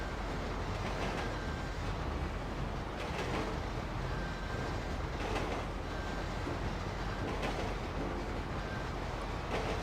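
A train in a video game rolls along steadily with a constant rumbling drone and faint rhythmic clatter, loud and unbroken throughout.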